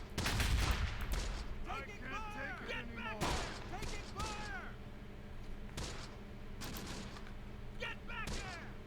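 A .30 cal machine gun fires in the WWII Close Combat game in the Italian hills, sharp bursts spaced a few seconds apart over a steady battle din, with voices calling out between them.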